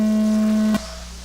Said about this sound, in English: We go on the sound of the tone.